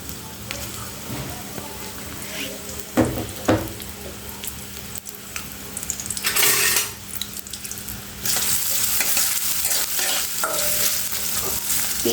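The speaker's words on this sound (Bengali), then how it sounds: "পেঁয়াজ দিয়ে ভালোভাবে ভেজে দেব" Onions frying in oil in a pan, to be cooked with fish, make a steady close sizzle with stirring scrapes that grow louder and fuller partway through, with brief speech.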